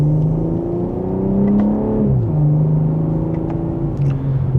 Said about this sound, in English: And just a minor acceleration, but it sounds good